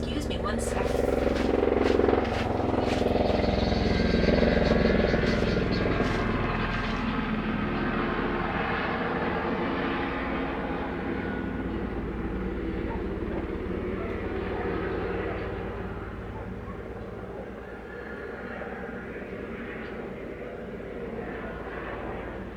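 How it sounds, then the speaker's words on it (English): A helicopter flies nearby in Nova Scotia with a loud, sustained engine roar and rotor rumble. The noise is strongest early on and then slowly fades as it moves off, with talking going on underneath. "There's a helicopter"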